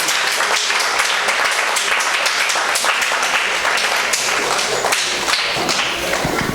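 Sustained applause from a seminar audience, dense and even clapping throughout, loud and close with little talk.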